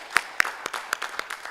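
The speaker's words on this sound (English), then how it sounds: "I think we should give them a big round of applause for their presentation" A small audience at a business case competition semi-final claps after a student team's presentation, giving a few sharp separate claps followed by light, scattered clapping.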